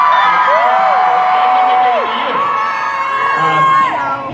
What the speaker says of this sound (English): We're not really comfortable with the screams.